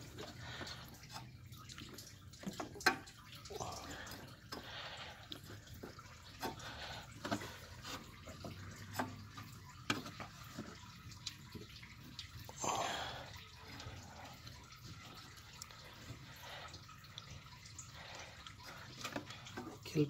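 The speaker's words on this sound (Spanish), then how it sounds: "Ahí está, tirando agua." Coolant water dripping and trickling from a Chevy Equinox during a thermostat and temperature sensor change, heard as faint, irregular drips over low background noise with occasional quiet speech.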